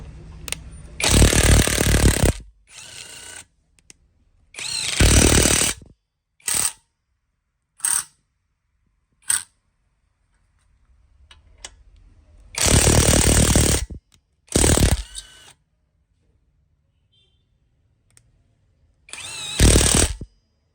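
A Wadfow 20V cordless lithium-ion impact wrench with a 12 mm socket hammers an engine bolt loose in several loud, rattling bursts of one to two seconds, separated by short clicks and silent pauses.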